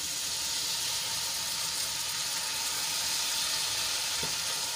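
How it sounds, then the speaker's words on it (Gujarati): Water sprinkled over spices frying in oil in a pan for a besan chili curry, giving a steady, close, loud sizzle and hiss that runs the whole time with no talk. "એમાં આપણે બે ચમચી જેટલું પાણી એડ કરીશું ઉપરથી આ રીતે થોડુંક છાંટી દઈશું"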